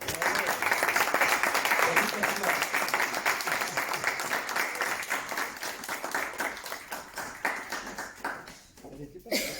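Sustained applause at a municipal council meeting as a new councillor receives her insignia, dense clapping filling the room and gradually thinning toward the end, with some talk mixed in.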